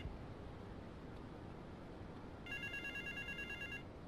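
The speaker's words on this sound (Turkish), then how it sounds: "Şuradaki telefon çalıyor, kimse açmıyor, ayıp." A telephone rings in the GTA Vice City video game, a single steady electronic trill sounding faintly over constant hiss in the last second and a half.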